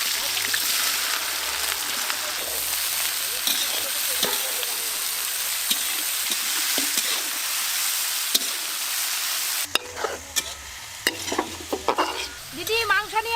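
Chopped onion fries in mustard oil at an outdoor family picnic cookout while someone stirs it: a steady close hiss of frying, then louder clattering and scraping strokes near the end, with faint voices in the background.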